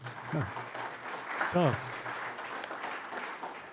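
Audience applause at a European forum event in Vienna, honouring a speaker's 80th birthday; a broad, steady wash of clapping fills the clip while a voice speaks briefly over it.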